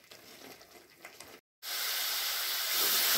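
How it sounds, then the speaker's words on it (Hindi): Ginger-garlic paste frying in oil in a wok gives a soft sizzle that stops for a moment, then comes back as a loud, steady hiss. "मैंने अदरक लहसुन का पेस्ट डाल लिया है और इसे मैं तब तक चलाऊंगी जब तक ये तेल ना छोड़ ले"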